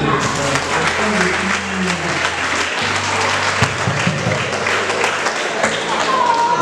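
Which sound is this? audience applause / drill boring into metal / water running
audience applause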